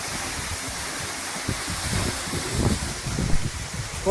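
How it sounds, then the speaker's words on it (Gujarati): Continuous rushing water pouring into a well, a dense steady roar like water falling into a deep space, with low churning swells throughout. "કુવામાં પાણી આવે છે"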